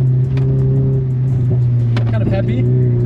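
A Nissan-style sports car's engine hums and pulls in a racing video game, a steady droning tone that climbs slightly, with a few brief sharper bursts near the end.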